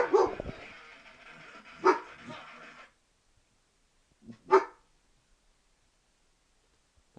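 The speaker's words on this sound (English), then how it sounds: "Dogs, cut it out!" Dogs bark in a few sharp bursts indoors, two quick barks near the start and another pair a couple of seconds later, then quiet.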